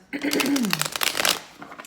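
A deck of tarot cards is shuffled up close, giving a run of quick papery riffles and flutters while someone talks over them.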